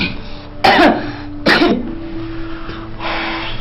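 Two sharp, forceful coughs close by from a patient coughing on request during a medical examination, a short pause between them, followed by a softer breathy exhale.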